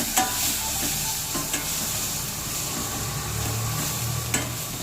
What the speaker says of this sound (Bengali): ভালোভাবে আমি মশলাটাকে কষিয়ে নেব।